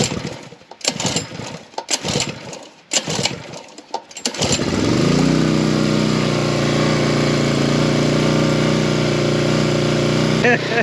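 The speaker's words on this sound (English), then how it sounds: "So you give it a few pulls and see if it starts up." A Champion 7-ton log splitter's small gas engine is pull-started: several uneven rope-pull bursts, then the engine catches and settles into a loud, steady, close-up drone.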